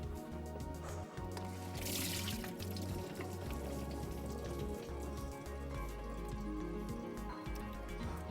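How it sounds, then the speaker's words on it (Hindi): Vinegar and salt water drains off soaked chicken, a continuous soft splashing trickle with dripping, fairly faint and steady throughout. "तो अब इसको कर देंगे ड्रेन आउट।"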